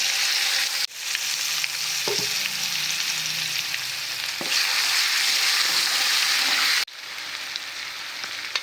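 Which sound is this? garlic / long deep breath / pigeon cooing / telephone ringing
garlic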